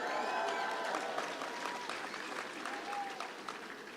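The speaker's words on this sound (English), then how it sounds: "you can clap for Generation Z." Steady applause from a graduation audience at Strathmore University, a dense continuous patter of many hands clapping, moderately distant and sustained throughout.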